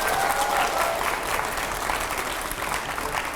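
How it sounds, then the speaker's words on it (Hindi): A studio audience at a televised Hindi interview show breaks into steady, dense applause, loud and sustained throughout with no talk over it. "मैं चाहूंगा पहले तो जोरदार तालियां होनी चाहिए।"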